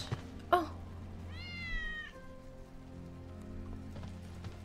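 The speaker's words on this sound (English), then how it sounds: "Hear that? Kitty, save the kitty." A cat meows once, clear but fairly quiet, in the video game Final Fantasy 7 Remake, with soft rain-like ambience and a brief thump just before.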